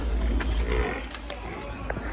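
A buffalo lows in a deep, drawn-out bellow at the start, close and loud amid rumbling farmyard noise with people talking nearby.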